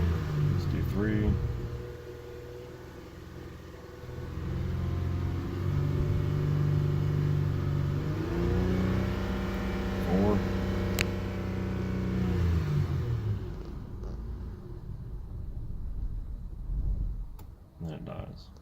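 A 2005 Honda Odyssey engine is revved and held at steady throttle, droning loud and close for several seconds before winding down and fading near the end, with a person speaking over it.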